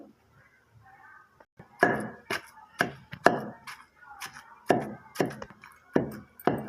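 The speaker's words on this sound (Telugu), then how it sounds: "చింతతొక్కు వేసాను. ఇప్పుడు నూరుకుందాము." Tamarind chutney is worked in a stone mortar: sharp, close knocks of the pestle strike repeatedly in an uneven rhythm, with quiet pauses between.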